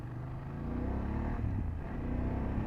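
A 2024 BMW F800GS motorcycle engine hums steadily while riding, a smooth, mid-pitched drone that swells slightly under light throttle, heard close with wind noise and no talk.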